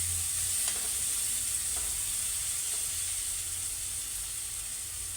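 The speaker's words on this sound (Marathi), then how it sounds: "थोडासा आपण कांदा परतून घ्यायचा" Onion sautés in a pan as the base for a ragi breakfast dish, giving a bright, continuous sizzle up close with a few soft stirring clicks and no voices.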